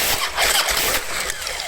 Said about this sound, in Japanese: スタータードライブギアができってから奥のクラッチの方で音が鳴ってるような気がしますね。